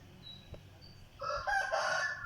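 A rooster crows once, loud and fairly close, following a brief quieter stretch of background noise.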